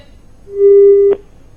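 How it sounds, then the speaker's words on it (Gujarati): A single telephone busy tone after a call is cut off: one clear, loud, steady electronic beep lasting about half a second, alone against quiet line hiss. "તો ફોન કપાઈ ગયો છે"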